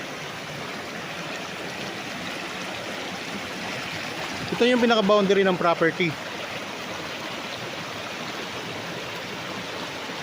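Steady broadband rush of a river flowing beside a farm lot with bamboo in Liliw, Laguna, continuous throughout, with someone speaking briefly over it partway through.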